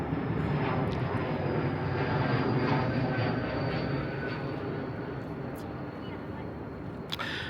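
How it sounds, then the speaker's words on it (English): A fixed-wing aeroplane passes overhead near St Catherine's Dock on its approach to London City Airport, a loud broad engine roar that slowly fades as it moves away. "There's a noisy aeroplane flying over."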